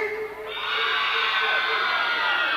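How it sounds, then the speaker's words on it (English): An audience of girls screams and shrieks at a live show in a nightclub in 1992, a loud sustained wall of high-pitched crowd noise that swells after a brief dip and holds to the end. "I want you to hear all the girls scream!"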